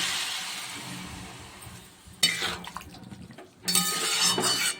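Water is poured into a pan of papaya and potato curry cooking with turmeric and salt: two loud, close bursts of splashing pour, each lasting about a second, with no talking.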